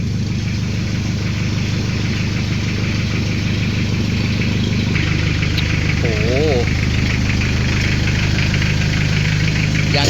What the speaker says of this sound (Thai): เครื่องโตโยต้านะครับ ยาว 6 เมตรครับ คันนี้